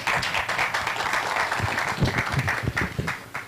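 An audience at a presentation breaks into applause, a dense burst of many hands clapping that swells and continues through the moment, fairly close and loud.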